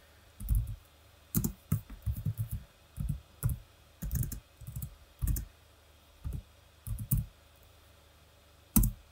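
Computer keyboard typing while entering debugger commands, heard as irregular bursts of close, crisp key clicks with short pauses between clusters.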